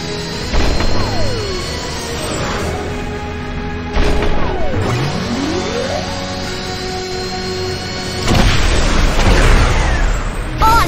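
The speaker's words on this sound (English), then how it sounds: "Press the button and launch the rocket." Cartoon rocket launch in the Little Panda's World children's game: a loud rumbling roar with rising whooshes and sweeping synth tones, surging again in several booming bursts.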